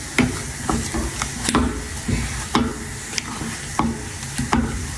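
Churro dough being stirred by hand in a bowl, a steady series of soft, sticky scraping and slapping strokes at close range, each stroke a short burst in an uneven rhythm.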